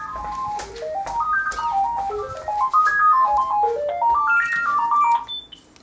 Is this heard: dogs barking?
no